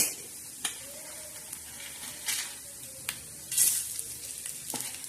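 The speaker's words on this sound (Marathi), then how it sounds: "हे बघा उडायला लागला तो तडा तडा असा मस्त असा हलवून घ्यायचं" Whole spices roasting with coriander seeds in a dry pan crackle and pop in sharp, scattered bursts over a faint background hiss, close up with no voices.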